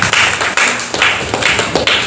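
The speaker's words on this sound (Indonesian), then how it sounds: "Tepuk tangan bang Pak Jul." A village audience in Lubuk Kertang, Langkat clapping for their village head Pak Jul: loud, close, steady rhythmic clapping in even beats, with no talking.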